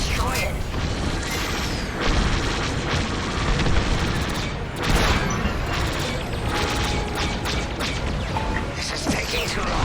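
Starfighter laser cannons fire in Star Wars Squadrons amid a dense, loud battle din of blasts, rumbles and mechanical noise that continues for several seconds.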